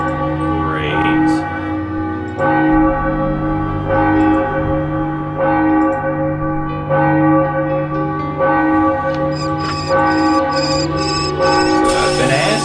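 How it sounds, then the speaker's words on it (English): A church bell in the video game Enigmatis tolls in steady, resonant strokes roughly every one to two seconds, loud and ringing out with long overlapping decays. "So the bell's ringing despite the mechanism not working."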